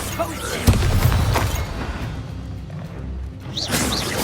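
A fire spell cast in Hogwarts Legacy during a fight with goblins gives a loud whooshing burst with a booming impact, followed by fading rumble and a second swish near the end.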